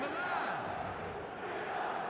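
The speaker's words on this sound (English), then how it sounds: "There's a real expectant buzz in the stadium" Steady, dense stadium crowd buzz in the eFootball video game, a continuous expectant murmur filling the background for a couple of seconds with no distinct cheers or chants.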